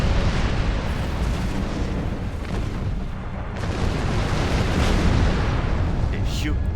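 Starship weapons firing in Star Trek Online during a Romulan Republic battle: a dense, continuous roar of blasts and explosions with a rising whine near the end, loud and sustained.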